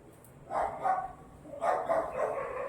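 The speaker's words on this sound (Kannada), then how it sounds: "ನಾಯಿ ಬೊಗಳ್ತಾ ಇದೆ" A dog barks in a residential neighbourhood, in two clustered bursts of several barks each, fairly close and alone without talk.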